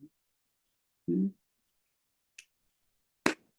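A single sharp hand clap by a Zen teacher during a dharma talk, ringing out alone in a quiet room after a brief spoken word, with a fainter click just before it.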